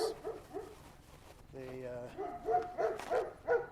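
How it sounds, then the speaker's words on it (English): Neighbouring dogs bark outdoors in a series of short, moderately distant barks, with a brief voice heard among them. "Pardon the neighbor's dogs."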